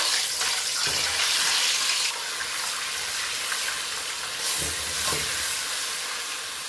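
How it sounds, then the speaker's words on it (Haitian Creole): Garlic dropped into hot oil in a pot, a steady close hiss and sizzle throughout, with a few soft stirring knocks under it. "L'huile la fin chaud dans chaudière, mwen met l'ail."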